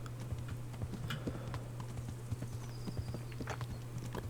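Steady clip-clop of horse hooves in the medieval role-playing game Kingdom Come: Deliverance, a regular walking rhythm of soft thuds over a constant low hum, moderately quiet with no talking.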